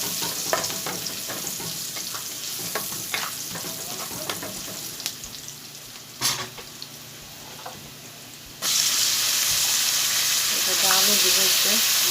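Potatoes fry with noodles in a pan at breakfast, a low crackle under light stirring clicks that jumps into a loud, steady sizzle partway through as more food goes in.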